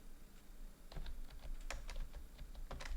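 Quiet, quick clicks of typing on a computer keyboard, irregular keystrokes in short bursts over a soft background hiss, no voices.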